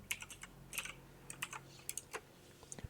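Quiet, irregular clicks of typing on a computer keyboard, scattered keystrokes in small bursts heard close and alone.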